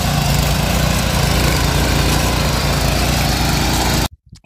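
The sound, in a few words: I-Make power weeder engine running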